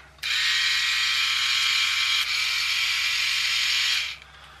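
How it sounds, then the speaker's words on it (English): A small electric toy motor driving a little gearbox whirs steadily for about four seconds with a high, buzzing mechanical whine, starting and stopping abruptly, close and alone. "it's also got this little electric motor and gearbox."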